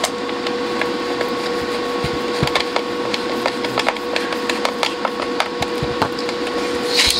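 Screws being driven back into the casing of a Roberts DAB radio during a repair, giving close, steady scratchy clicking and creaking with sharp ticks scattered throughout and no speech.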